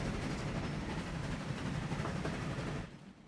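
Passenger train running in the Transport Fever 2 game, a steady loud rolling rumble with rattling wheel noise throughout, fading down sharply near the end.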